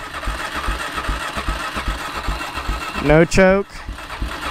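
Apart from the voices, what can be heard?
ATV engine trying to start and idling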